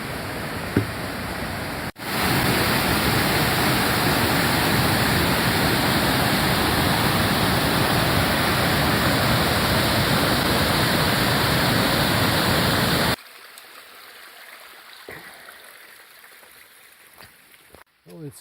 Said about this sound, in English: I reckon this is the Thompson River.